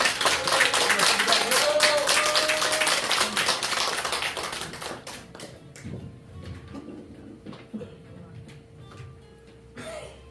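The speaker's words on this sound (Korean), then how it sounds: "다 같이 박수 부탁드려요" An audience claps in a room for a singer and pianist, a dense burst of applause that is loud for the first few seconds, then thins to scattered claps and quiet room noise.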